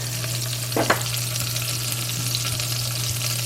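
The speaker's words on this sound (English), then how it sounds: "I'm going to go ahead and put my onions in there, and we're just going to" Onions fry in melted butter in a pan, giving a steady, close sizzle that runs the whole time. Early on a brief scrape of stirring rises above it, and a low electrical hum sits underneath.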